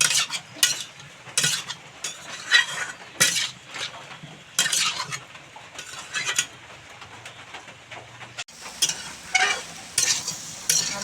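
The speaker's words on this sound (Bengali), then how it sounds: "আলু ভাজা হয়ে গেছে, এখন নামিয়ে নেব।" Potatoes fry in a pan with salt and turmeric, with a steady sizzle broken by repeated bursts of scraping and stirring from a utensil against the pan, loud and close.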